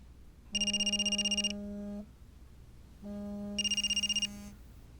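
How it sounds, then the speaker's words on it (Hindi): A telephone rings twice, each long electronic ring with a trilling warble, separated by a second of quiet. "तुम्हारे घर से फोन आ रहा है?"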